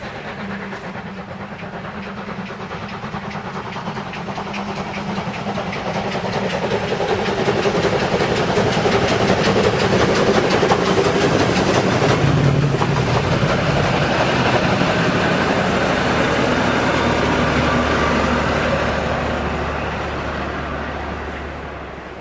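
A P8 steam locomotive passes near a large construction site in the Münsterland countryside, its rumble swelling from a distance to a loud, sustained roar with rail clatter before slowly fading.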